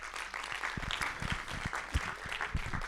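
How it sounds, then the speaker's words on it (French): A conference audience at an HR talk claps briefly in a room, a moderate patter of hands with a low rumble beneath, fairly close and fading out without talk over it. "Je voulais qu'on l'applaudisse, qui est là."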